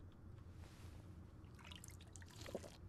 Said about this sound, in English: let's go ahead and refill these bottles